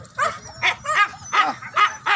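Dogs bark and yip repeatedly at a dog race, five or six sharp, close bursts in an uneven rhythm with short gaps between them.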